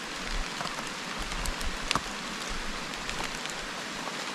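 Light, steady drizzle falls on a high mountain slope, a soft continuous hiss of fine drops pattering on leaves and ground with a few slightly sharper taps, no voices.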